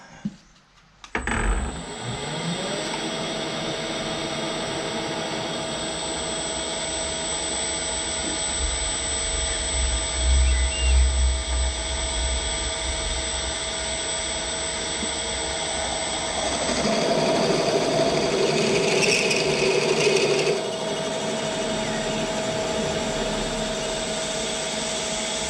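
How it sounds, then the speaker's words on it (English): A power drill whirs steadily for about twenty seconds driving a self-drilling screw, its tone rising and roughening near the end as the screw bites in, then stops abruptly. "let's see if it'll self-drill for fun"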